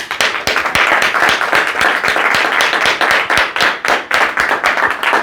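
Sustained applause from a telephone sales team audience at a motivational talk, dense and loud steady clapping with individual claps standing out, and no talk over it.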